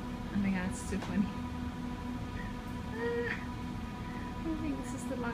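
A cat gives a few faint, brief meows against a quiet indoor background with low room noise, the calls scattered and soft rather than continuous.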